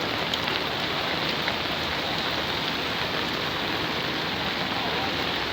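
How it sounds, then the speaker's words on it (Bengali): Heavy rain pours steadily onto flooded streets and shop roofs, a dense, even hiss of downpour close by that holds at constant loudness throughout. "দেখেন কিরম বৃষ্টি হইতেছে"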